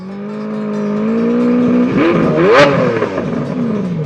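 Car engines in a movie chase roar and rev, a steady engine drone that builds, then swells and bends in pitch with a sharp clattering burst near the end.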